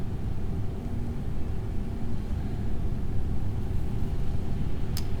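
Spacecraft aerobraking through an atmosphere in Kerbal Space Program, a loud, steady low rumble and roar that holds constant, with a brief sharp click near the end.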